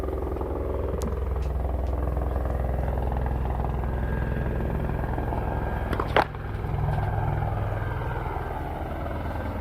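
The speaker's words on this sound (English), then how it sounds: "we see another chopper flying across Melbourne Park" A helicopter's rotor and engine drone steadily in the background over Melbourne Park during the Australian Open, fairly distant, with a brief sharp noise near the middle.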